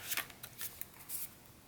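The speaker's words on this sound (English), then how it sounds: "just take your scissors and trim off" Scissors trimming paper around a covered book during a marbled-paper craft, heard as several short crisp snips and cutting strokes spaced irregularly, close and fairly quiet, with no talking.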